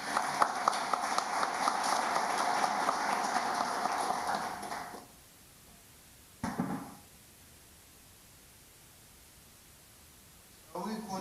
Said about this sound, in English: Shall we continue to give him a round of applause?